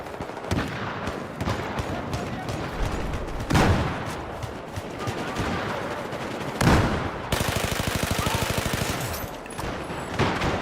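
Rapid automatic M16A4 rifle fire in a Battlefield shooter, bursts of loud cracks with a sustained evenly spaced volley near the end, layered over busy battlefield noise.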